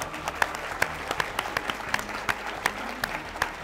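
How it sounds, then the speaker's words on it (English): Studio audience applause after a Washington State 1st Congressional District debate, a fairly faint patter of clapping from a modest crowd, with a few sharper individual claps standing out at a steady, loose rhythm. "Let's give them one more round of applause."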